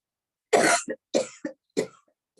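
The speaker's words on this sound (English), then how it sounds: "take a deep breath and cough" Three forceful coughs from one person during a yoga session, close and loud, each with a short throat-clearing tail and brief pauses between them, heard alone with no talk.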